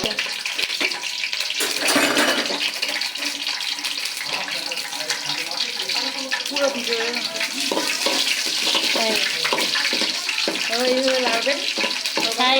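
Onion leaves with garam masala and bay leaf fry in a pan as a steady, busy sizzle, with scraping and clattering from a spoon stirring throughout and occasional voices in the background.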